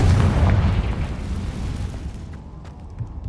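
A spell blast from the Hogwarts Legacy video game, a Confringo fire curse, bursts out as a loud booming explosion and then fades into a quieter rumbling tail.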